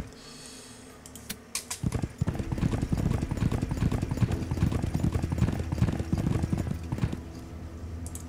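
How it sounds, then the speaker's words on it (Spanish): Steady clip-clop of horse hooves from the video game Heroes VI, a continuous rhythmic trotting that starts after a short pause and runs on under a faint ambient bed, with no speech. "Qué relajante es el traca-traca del caballo."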